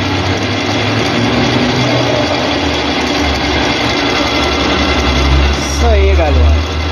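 Small lathe cutting a motorcycle shock absorber part from a Kawasaki KLX 650, a steady mechanical whirr with low rumble running throughout, fairly loud, with a brief squeak and pitch sweep near the end.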